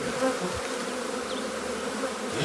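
Honey bees drone in a steady, dense buzz around a backyard hive box during installation, a continuous near hum with individual insects passing close by.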